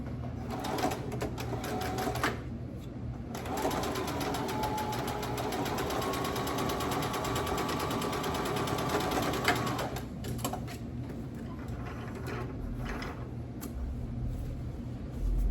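A sewing machine stitches a designer Bible tote bag with a fast, steady mechanical whir and needle chatter. It runs continuously, close up, for most of the clip, then pauses briefly with light handling noise.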